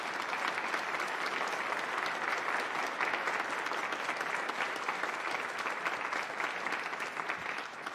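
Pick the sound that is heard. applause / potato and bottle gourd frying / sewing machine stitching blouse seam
applause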